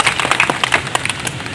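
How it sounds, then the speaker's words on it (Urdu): Employees at a Korangi Town sanitation department promotion ceremony applaud for themselves, a short burst of lively, fairly close clapping from a small crowd. "تو ایک دفعہ تالیاں آپ اپنے لیے بجائیں"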